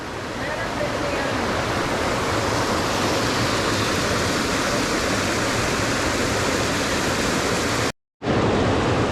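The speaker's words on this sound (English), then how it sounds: "The two creeks right there. They meet right there." Two creeks rush together at their meeting point on the Olympic Peninsula in Washington, a steady loud broadband roar of flowing water, close by and unbroken apart from one brief cut near the end.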